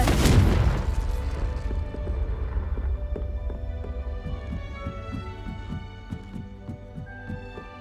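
Confringo explosive spell cast in Hogwarts Legacy: one loud booming blast at the start, then a decaying rumble under soft rhythmic thuds and a tonal game score.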